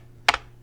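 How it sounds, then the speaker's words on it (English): A couple of quick keystrokes clack on a computer keyboard, one sharp close tap followed by a softer one in an otherwise quiet room. "I have really bad keyboard"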